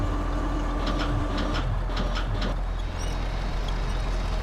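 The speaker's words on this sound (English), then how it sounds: "Without being able to change trucks and drive it up, I'll have to winch it." An old Western Star 6900 truck is winched onto a flatbed in the SnowRunner video game: a steady, loud mechanical drone with a rhythmic clattering pulse through the first half, fading to a continuous rumble.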